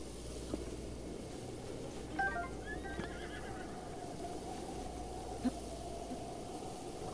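A horse in the video game Breath of the Wild gives a short, faint whinny over steady outdoor ambience, with a couple of soft hoof taps.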